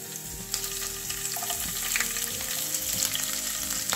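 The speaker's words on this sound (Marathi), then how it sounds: "लसूणाच्या पाकळ्या ज्या आहेत या कट करून घेतलेल्या आहेत, या आपण टाकून घेऊया। आणि 4 ते 5 मिरच्या बारीक कट केलेल्या आहेत, या सुद्धा आपण यामध्ये घेऊया।" Chopped garlic and finely cut green chilies frying in a hot pan for gavar bhaji, a steady crackling sizzle that runs through the whole stretch with light stirring knocks, close and fairly loud.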